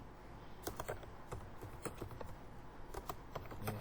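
Typing on a Windows 10 computer keyboard, with soft, irregular key clicks close by over a faint steady background hiss.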